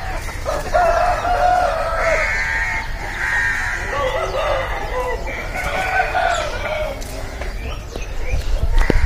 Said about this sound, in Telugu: సో ఇవన్నీ కోళ్ళే అన్నమాట